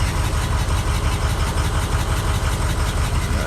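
A 2004 truck engine idles steadily and loudly, its low rumble carrying a fast, uneven ticking clatter throughout from a possible valve train fault.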